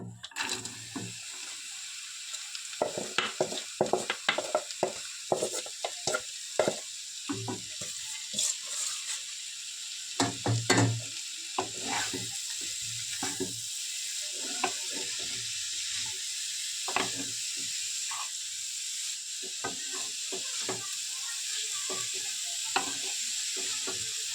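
Bottle gourd frying in a hot pan with ghee, bay leaf and cardamom, a steady sizzle with intermittent stirring scrapes and clatters throughout, fairly close and moderate in level.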